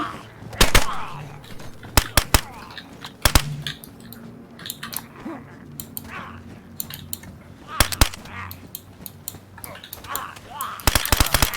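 Gunfire in the survival video game DayZ: scattered sharp single shots and short bursts fire at irregular intervals, loud and close, over a low background with a few quiet voices.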